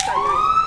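An emergency vehicle siren passing outdoors at a canoe club gathering in Kailua, a brief rising wail that sounds loud and near, heard alone without talk.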